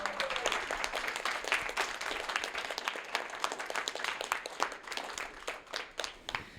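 Dense applause from a crowd, many hands clapping steadily and loudly for several seconds, with a few sharper claps standing out.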